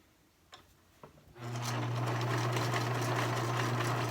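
A sewing machine runs a short-length zigzag stitch along a fabric edge for a face mask; a couple of soft clicks lead into a close, steady humming buzz that holds for nearly three seconds.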